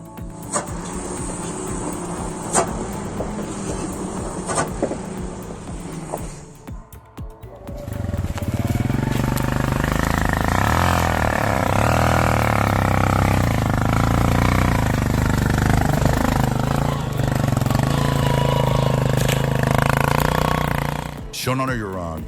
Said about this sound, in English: transporting logs by motorcycle